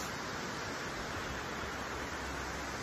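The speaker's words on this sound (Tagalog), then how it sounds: "Waterfalls." A waterfall gives a faint, steady rushing hiss that stays even and unbroken throughout, with no voices.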